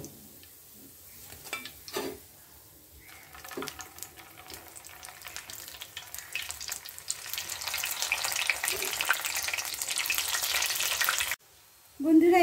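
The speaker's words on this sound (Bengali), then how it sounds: "আমার বাকি যে কটা আছে আমি সেগুলোও ঠিক এভাবেই ভেজে নেব" Fish kofta balls frying in oil, a quiet sizzle broken by occasional clinks of a utensil that grows into a dense, loud crackle, then drops briefly before another clatter.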